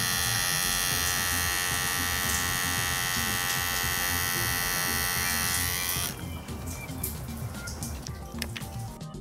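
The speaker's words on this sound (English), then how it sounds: "I love these clippers." Wahl electric hair clippers buzz loudly and steadily up close for about six seconds, then the hum cuts away and lighter handling noises and scattered clicks follow.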